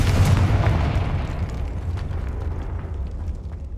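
A Confringo blasting spell explodes in the Hogwarts Legacy video game, a loud deep boom that bursts at once and rumbles away over a few seconds, with no voices.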